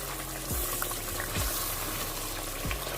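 Masala for mixed daal fries in a pan with a close, steady crackling sizzle, interrupted by three soft scraping stirs spaced about a second apart.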